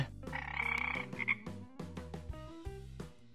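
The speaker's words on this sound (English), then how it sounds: "Frog" A cartoon-style frog croaks in a quick run of throaty calls over a bouncy children's music bed, close and clear, with no speech.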